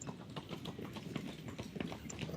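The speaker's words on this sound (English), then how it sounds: "Those sounds were the echoes of the horses' hooves and the cows rolling off the ground." Horse hooves clip-clopping in the Steam Prison video game, a close, steady run of rhythmic hoof strikes continuing throughout with no talk.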